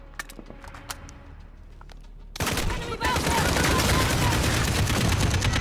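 Gunfire in the shooter Call of Duty: Modern Warfare (2019): a few sparse sharp shots at first, then a loud, sustained barrage of rapid automatic fire that continues to the end.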